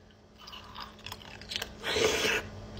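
Someone bites into a chamoy pickle and chews it up close, giving wet crunching and smacking sounds that build to a louder crunching burst near the end, with no talk.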